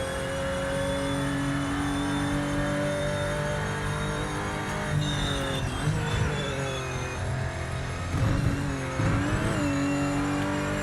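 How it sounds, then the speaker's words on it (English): A Porsche race car in project Motor Racing, its engine droning steadily at high revs and then rising and dropping through gear changes with a gravelly growl near the top, loud and continuous. "I think the Porsche sounds authentically Porsche, if I'm honest. Especially right at the top. It gets that little growl."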